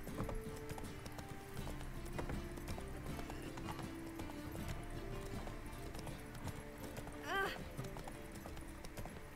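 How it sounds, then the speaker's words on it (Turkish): Horse hooves clip-clopping in The Witcher 3, with a steady trotting rhythm and a brief whinny, fairly quiet under game music and someone talking. "Atın geldiğini görüyorsun."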